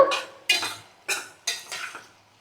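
A spoon scrapes through salted potato curry in a frying pan: five quick, evenly spaced metallic strokes, close and fairly quiet, with no talking.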